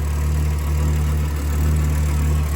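A cheap project car's engine idles with a gnarly exhaust leak, a steady low rumble with a deep throb that holds loud and close throughout.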